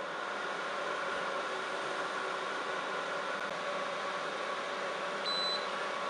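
A Cookeo multicooker restarted on its lid-closed cook runs with a steady, even hiss and hum throughout, a faint beep near the end, no talking.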